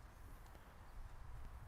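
A horse walks at a slow pace, its hooves clip-clopping steadily and close by during groundwork on a friendship-building exercise, with no voices.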